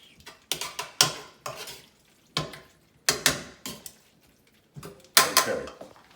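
Wet pasta hisses and sizzles in a pan in short, irregular bursts as it is stirred and tossed, with scraping of utensils.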